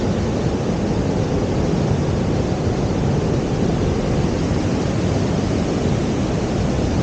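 A strong river current pours beneath the Kethia bridge, producing a loud, steady, dense rushing roar that stays constant from start to finish with no talking.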